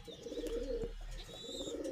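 Pigeons coo steadily inside a pigeon farm loft, a low rolling murmur of several birds close by, with faint higher chirps over it and no talking.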